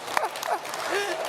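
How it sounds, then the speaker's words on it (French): Applause from a church congregation during a Sunday homily, a brief patter of clapping over a noisy hall with a voice speaking through it. "Applaudissez pour lui."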